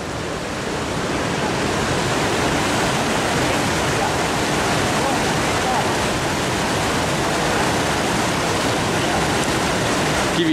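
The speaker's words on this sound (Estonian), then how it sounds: "Veevool on nii tugev, et kui matkakepi topid vette, siis vesi tõmbab seal lihtsalt kaasa" A strong mountain stream rushes over wet, slippery stones on a Kazbegi trek, its loud, steady broadband roar continuous and close with no pauses.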